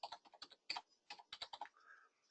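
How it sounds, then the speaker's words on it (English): Fingers type keywords on a computer keyboard in quick, irregular bursts of crisp, close clicks, fairly quiet, with no speech. "In this section, I'm going to type in keywords."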